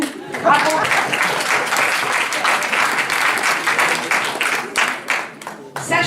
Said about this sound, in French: bravo, applaudissez-vous